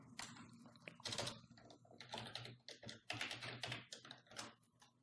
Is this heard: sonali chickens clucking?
no